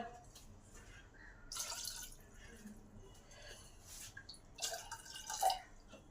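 Water is poured over cut, washed taro (kochu) in a pressure cooker, giving two splashing, gurgling bursts of moderate loudness against a quiet kitchen background.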